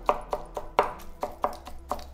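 Knife repeatedly chopping a sandwich filling of cheese and mayonnaise on a board, about nine crisp, evenly spaced strikes, close and moderately loud with no talking.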